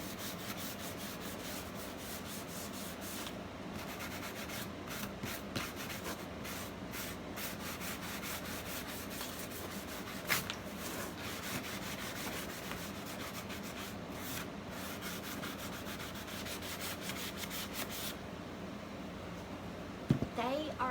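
Continuous rhythmic rubbing of sandpaper on a surface, quiet and steady, with short strokes and occasional light knocks, and no pauses for long.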